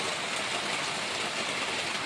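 Heavy rain pours down steadily on a flooded village yard with a brimming pond. It makes a dense, even hiss, close and unbroken, with no voices.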